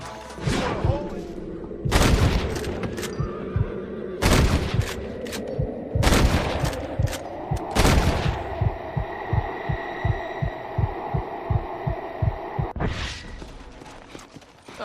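Gunfire in Red Dead Redemption on Xbox 360: several loud sharp shots spaced a couple of seconds apart, followed by a steady run of rhythmic thumps like galloping hooves, with a brief burst of noise at the end.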